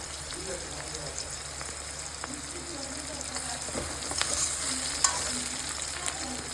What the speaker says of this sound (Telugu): మనకి ఆనియన్స్ ఇలా ఆరెంజ్ కలర్ వేగినాక చూసారు కదా ఎంత నీట్గా వేగాయో